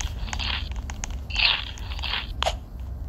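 Crunchy biting and chewing sounds from eating pizza in the Roblox video game, several short crisp bursts in a loose rhythm over a low background hum.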